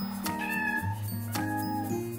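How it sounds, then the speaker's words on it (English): A pet cat meows loudly and close by, two drawn-out tonal calls in quick succession with no talking over them. "Do you hear this? This is my cat."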